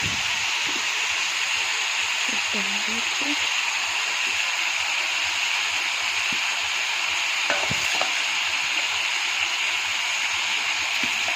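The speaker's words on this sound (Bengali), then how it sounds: "টমেটো আলু দিলাম, দেখো টমেটোটা দিয়ে দিলাম।" Tomato and potato frying in a pan for chicken curry, giving a steady, moderate sizzling hiss with a few soft stirring knocks and scrapes, with no talking.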